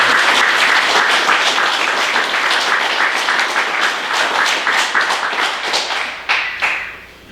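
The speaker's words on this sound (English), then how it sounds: "Please give these drivers a round of applause." Banquet audience applauding truck drivers at a transport company safety awards event, loud sustained clapping that thins into individual claps before fading out.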